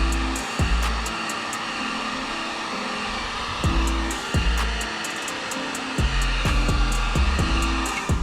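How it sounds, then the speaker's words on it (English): A heat gun blows with a steady, loud whooshing roar, warming the badge on a 2015-2020 Jeep Grand Cherokee. Clicks and light handling thumps recur close by beneath the airflow. "just take a heat gun"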